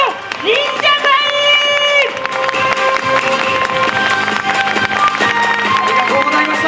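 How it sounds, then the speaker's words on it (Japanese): A crowd applauds the costumed samurai warlord performers of a Nagoya hospitality troupe, steady clapping and some cheers blended with music and an announcer's voice throughout. "本日ご出陣いただきました武将の方々に大きな拍手をお願いいたします"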